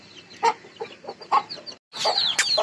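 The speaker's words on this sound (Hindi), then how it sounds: "ये असील है, ये असील मुर्गी है" An Aseel hen and her chicks clucking nearby, a run of short, uneven clucks and peeps, with a busier stretch of chick chatter after a brief pause.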